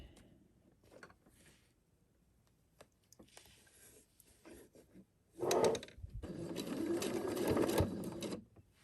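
A sewing machine free-motion quilting a quilt block: quiet fabric handling and faint clicks, then a loud close burst of rapid stitching running for about three seconds before stopping.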